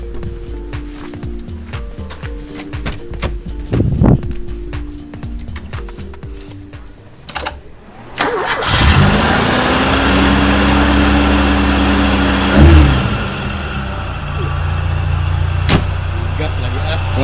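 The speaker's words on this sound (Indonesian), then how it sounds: "Kali ini kita dengerin suara mesinnya dari luar." A 1981 Peugeot 504 engine cranks and catches around the eight-second mark, then settles into a loud, steady idle heard from outside the car, with a brief revving surge near the thirteen-second mark; a voice talks faintly before the start.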